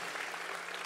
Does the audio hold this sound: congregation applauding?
yes